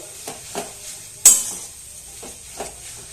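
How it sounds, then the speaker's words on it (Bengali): A spoon stirring soybean momo filling mixed with fried dried chili in a pan, giving a few soft scraping strokes with one sharper clink of metal against the pan. "একবার হালকা নাড়াচাড়া করে নিচ্ছি"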